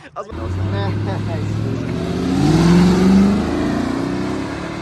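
A Dodge Viper GT at a car show revs hard after a short start, its engine rising to a peak near the middle and then settling into a steady rumble, close and loud.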